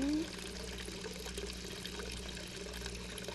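In the Hello Neighbor video game, water pours in a steady continuous stream after a short tonal blip at the start, quiet and with no talk over it.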